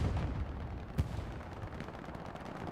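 Stuka dive-bomber air strike explosions in the World War II shooter Hell Let Loose on the Carentan map, heard as distant rumbling booms with one sharper blast partway through, set against a continuous crackle of battlefield fire.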